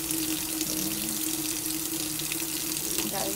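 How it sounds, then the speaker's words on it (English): Water runs steadily from a tap into a sink to bathe an unhappy cat, a continuous close splashing stream, with a person speaking softly over it. "Yeah, there comes the water."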